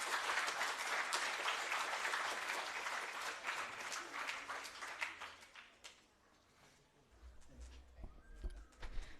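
Audience applause at a Space Science Day celebration marking Prof U R Rao's 90th birthday, a dense wash of clapping that gradually thins and fades toward the end, followed by some low background noise.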